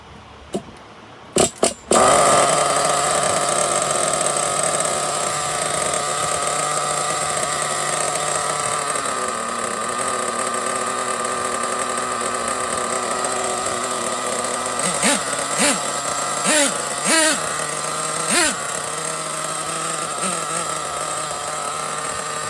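Nitro engine of an HPI Savage X 4.1 RC truck fitted with an expensive tuned pipe, running steadily after a restart with a buzzing drone, then blipped several times near the end in short revving bursts, close and loud.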